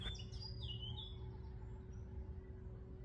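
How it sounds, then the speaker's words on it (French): Small birds chirping outdoors, a few quick high tweets and short trills at the start, then fainter calls trailing off over a steady low hum, quiet and somewhat distant. "et là je serai interrompu par des petits oiseaux"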